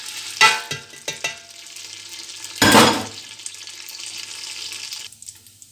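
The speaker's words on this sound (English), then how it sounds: "At this point, you are going to stir it together." Popcorn is stirred together in a pot, giving a few sharp scraping and rattling bursts near the start and one louder, longer scrape midway, then a quieter hiss that drops off toward the end.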